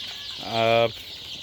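A house full of ten-day-old Sonali breed chicks keeps up a steady, dense chorus of peeping, broken midway by one brief, louder, lower-pitched call.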